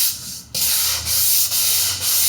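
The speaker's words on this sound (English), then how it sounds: "So I'm gonna go ahead and sand." An unsealed MDF hardboard frame being hand-sanded in loud, steady back-and-forth strokes, about four rhythmic rasping passes close up, with no talking.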